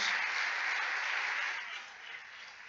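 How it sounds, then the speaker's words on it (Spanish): A church congregation applauds in praise during a Spanish-language service, a dense, steady wash of many hands clapping that fills the room, then tapers slightly toward the end. "Dale un aplauso al Señor"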